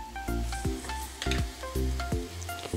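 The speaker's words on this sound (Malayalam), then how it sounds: "നന്നായിട്ടൊന്ന് ഇളക്കി യോജിപ്പിക്കാം." Chicken stirred with Kashmiri chili powder, turmeric, chicken masala and pepper in a hot pan, a ladle scraping in repeated rhythmic strokes over steady sizzling, close and clear.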